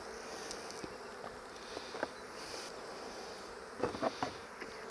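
Bees buzz around flowering trees, a steady close hum with several individual insects droning louder as they pass near, over faint outdoor background.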